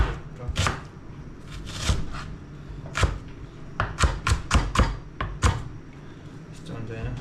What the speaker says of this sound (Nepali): प्याज भयो हेर्नु त कति राम्रो यस्तो टाइपको काट्यो हैन